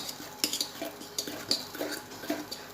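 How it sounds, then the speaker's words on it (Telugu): Ragi flour is stirred with water in a vessel, with a spoon clinking and scraping against the sides in quiet, irregular taps. "ఇది చూడండి కలుపుకుంటున్నాను."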